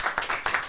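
An audience claps in a short, dense burst of applause with uneven, overlapping hand claps that swell and dip across the moment, fairly close and loud.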